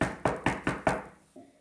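Five sharp knocks on a door in a quick, even rhythm, close and fairly loud, followed after a brief pause by a softer thud.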